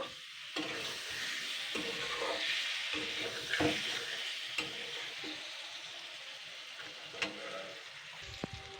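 Fish roe and boiled, peeled potato stirred in a hot pan, with a steady sizzle of frying under repeated scraping strokes of a spatula and a few sharp clinks against the pan, close up with no talking.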